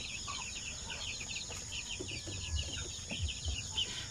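Shamo aseel chickens and their chicks cluck and peep softly in a farm setting, with faint bird calls scattered over a low, steady background hum and occasional dull thumps nearby.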